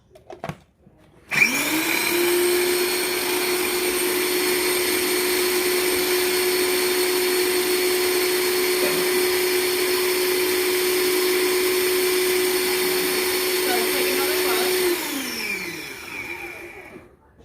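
A blender runs steadily for about thirteen seconds, chopping jerk chicken marinade ingredients, with a loud, even motor whine that starts abruptly and winds down at the end, no talking over it.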